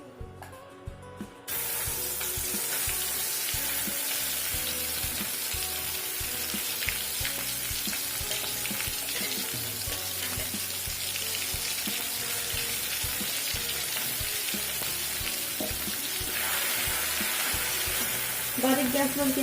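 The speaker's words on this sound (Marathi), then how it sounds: "बारीक गॅसवरती आपण परतून घेऊया मसाला" Ground masala fries in oil over a low flame for dum aloo, a loud, continuous sizzle and crackle heard close up, starting suddenly and holding steady throughout.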